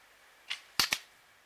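Sharp gunshot cracks for a historical battle narration of opening volleys: one quieter shot, then two close shots in quick succession, all brief and fairly faint.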